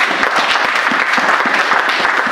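Audience applause fills the space, a dense, loud, steady patter of many hands clapping at once that continues without a break.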